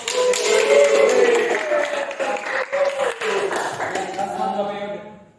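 A classroom group claps together in a lively burst of applause that fades out over about five seconds, with voices mixed in.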